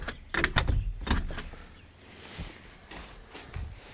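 An AKFA aluminium door hung on three hinges is opened and shut, giving a quick run of clattering knocks and a soft swish, then settling to quiet room tone, close by and without talk.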